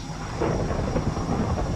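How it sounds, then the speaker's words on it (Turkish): Rolling thunder in rainy cartoon weather, a continuous low rumbling roar with a hiss of rain, loud and unbroken, with no voices. "Ve şansa şimşek çakıyor yağmurlu bir hava"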